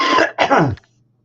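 One person clears their throat in two quick, harsh rasps close up, loud and alone, then falls silent.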